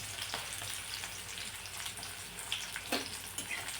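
Green chillies and finely chopped onion fry in hot oil, a soft continuous sizzle with faint crackles and a couple of brief clinks, fairly quiet and without talk.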